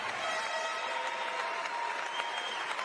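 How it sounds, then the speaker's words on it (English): A large audience at the Mr. Olympia 2021 bodybuilding contest, Classic Physique top five, claps in a dense, steady roar of applause with faint cheering throughout. "let's have a round of applause for them"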